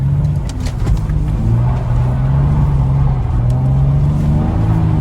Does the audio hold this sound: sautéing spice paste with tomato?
no